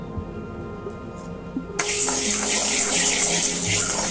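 After a quiet stretch, 1.5 glasses of water pour into moong dal cooking with turmeric, fenugreek, cumin and garlic, a sudden loud steady gush close by that runs to the end.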